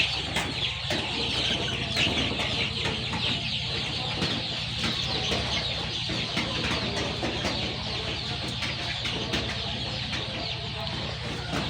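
Brown cock chickens on a poultry farm cluck continuously, a busy layered chorus of many birds at moderate distance with no talking.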